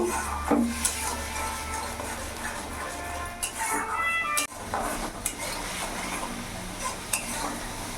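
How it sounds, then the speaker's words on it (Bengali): Spice paste with tomato sautés over medium flame in a pan while a spoon stirs and scrapes it, producing a low sizzle under frequent clinks and wooden scraping taps. "মিডিয়াম আছে আমি মশলাটা ভালো করে কষে নেবো।"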